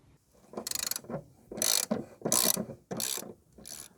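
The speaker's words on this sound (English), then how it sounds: "we'll remove the bolt with an E14 socket" Socket ratchet on an E14 bolt removing a rear shock absorber on a Vauxhall Corsa D, four or five close bursts of rapid clicking separated by short pauses, fairly loud and alone.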